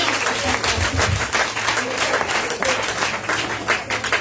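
A church congregation applauding and cheering for Jesus at a tabernacle gathering, loud dense clapping with crowd voices mixed in throughout.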